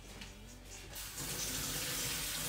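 A kitchen tap runs into a sink as eggs are rinsed under cold water while tuna pancakes are prepared. The water starts soft and then swells into a fuller, steady stream.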